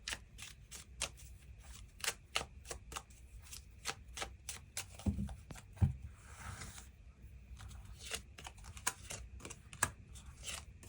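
Tarot cards shuffled and drawn, rapid papery riffles and soft slaps in an uneven close-up rhythm, with a brief rustle midway and no voices.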